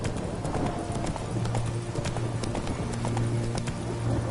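Roach, a horse in the video game The Witcher 3, walks along with a steady clip-clop of hooves, close and even, over a faint background rumble.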